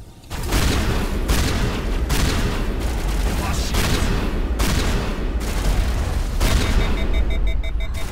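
A shotgun fires repeatedly in Mass Effect Legendary Edition. The blasts come loud and close, roughly every half second to second, each one a heavy burst over a busy game soundscape.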